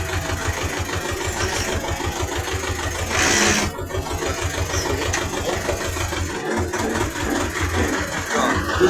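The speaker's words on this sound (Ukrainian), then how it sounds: "включив генератор, в нього якийсь такий звук інтересний" A T-16 tractor runs a three-phase 4 kW generator, its engine chugging in a steady fast rhythm close by with an odd mechanical whirr from the generator gears, continuous throughout with no talk.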